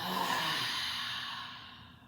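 An open-mouth yoga exhale, a single close, breathy sigh that starts strong and fades smoothly over about two seconds, alone without talk.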